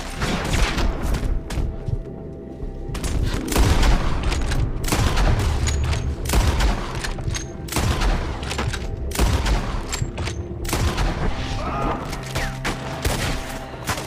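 Gunfire rattles through a shootout in Red Dead Redemption 2, with dense overlapping rifle and pistol shots, heavy booms and constant crackling volleys at close range, loud throughout.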